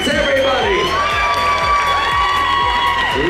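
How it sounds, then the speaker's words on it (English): Cruise-ship game audience cheering and whooping loudly and steadily for a prize winner, a dense continuous crowd roar with applause and shouts throughout. "give Paris a big round of applause, everybody"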